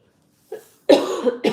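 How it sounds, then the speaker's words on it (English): A short soft throat sound followed by two harsh, close coughs, the last one cut off at the end, with no talking. "I still have a little bit of a cough with like mucus in my throat."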